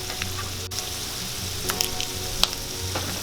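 Peanuts frying in hot oil in a pan, a steady close crackling sizzle with scattered sharper pops, continuous and fairly loud with no talking.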